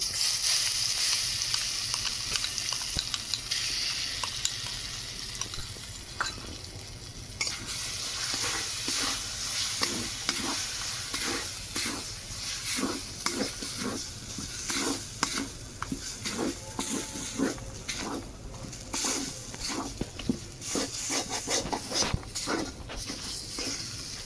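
Mung dal paste with a pinch of asafoetida frying and being stirred in a wok, a steady close sizzle with repeated scraping strokes of a spatula throughout, no talking.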